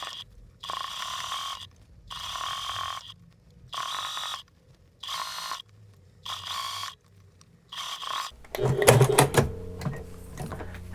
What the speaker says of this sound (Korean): 이제 여기 박음선 밑으로 쭉 따라서 박음질 해주도록 하겠습니다